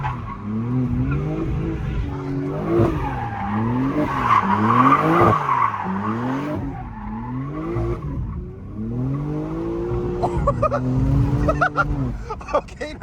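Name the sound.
Jeep Trackhawk driving with tires skidding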